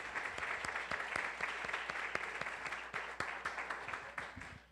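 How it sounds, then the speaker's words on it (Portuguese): A church congregation applauds during a worship service, with many hands clapping in a steady, moderately distant patter, some sharper individual claps standing out before it tapers off at the end. "Então vamos aplaudi-lo?"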